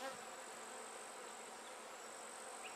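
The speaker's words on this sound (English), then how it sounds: "These bees just moved in." Dense, continuous buzzing of a newly moved-in bee swarm, steady and close, with a faint high whine running through it.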